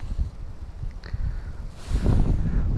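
Gusty spring wind blows across an open lake during a snowy fishing outing, a low rumbling buffet against the microphone that swells louder toward the end, with no voices.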